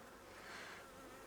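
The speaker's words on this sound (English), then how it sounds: "I got a bee at my face. You always have a bee in your face." Honeybees buzz steadily around an open beehive, a close, continuous insect drone that swells slightly midway with no pauses.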